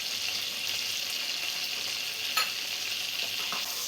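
Finely chopped garlic fries gently in oil and butter, a soft, continuous sizzle with a faint scrape of stirring partway through, steady and close with no voices.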